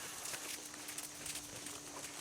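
Soft, steady hoofbeats of a horse cantering in an arena during a group riding lesson, a continuous rhythmic clip-clop heard at moderate distance with faint background noise.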